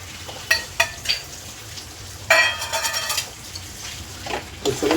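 Chicken with yogurt being stir-fried in a pan, with spoon scrapes and clinks against the metal over a low sizzle, in uneven bursts at moderate loudness.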